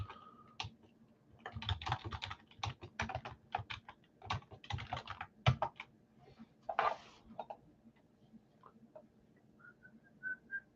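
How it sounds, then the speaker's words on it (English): Fingers tapping on a computer keyboard during a live sports card break stream, in quick irregular bursts of close, crisp clicks with short pauses between them, plus a few faint whistle-like tones near the end. "I don't know where I'm typing"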